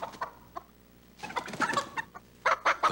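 Chickens cluck in a Carl's Jr. commercial, short bursts of close, loud clucking separated by pauses, with a denser flurry of calls toward the end.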